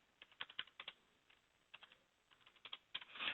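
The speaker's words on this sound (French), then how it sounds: "donc je vais taper mon mot de passe" A password is typed on a computer keyboard in quick, uneven bursts of soft, close keystrokes with short pauses, finishing with a slightly louder flurry.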